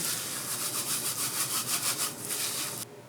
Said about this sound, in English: Rub the lemon zest right into the sugar with your fingers.